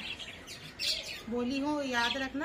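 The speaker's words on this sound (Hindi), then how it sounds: "मेरी चिड़िया की आवाज़ आ रही है आप लोगों को" A bird chirps and squawks in short bursts close by, mixed with someone talking over it.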